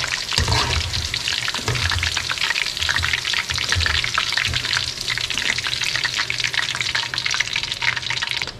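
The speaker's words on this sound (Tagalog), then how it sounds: "Piprito na rin po natin itong ating mga tilapia" Tilapia fish frying in hot oil, a dense, crackling sizzle that stays loud and steady throughout with occasional bubbling pops, close up and without talk.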